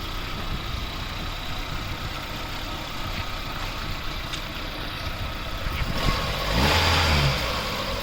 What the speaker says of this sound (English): You can just check out the volume and the sound of the vehicle.